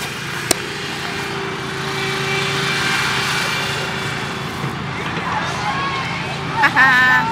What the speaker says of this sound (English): A barrel tractor.